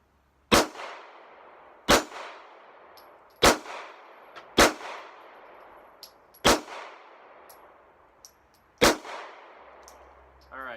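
Six sharp pistol shots from a Sig Sauer P238 firing bulk ammunition at a range, spaced irregularly about one to two seconds apart, each loud crack ringing briefly before fading to quiet.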